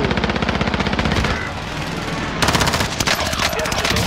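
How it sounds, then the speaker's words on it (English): Rapid, loud bursts of automatic gunfire in Warzone Rebirth, a sustained rattle that pauses briefly midway and then resumes in fast, evenly spaced shots. "I'm taking fire!"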